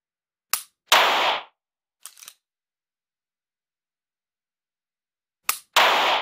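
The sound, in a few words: dry-fire pistol clicks and racking with a G-Sight laser cartridge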